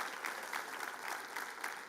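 Steady applause from a church congregation at an Adventist service, moderately quiet but continuous clapping with gentle surges throughout.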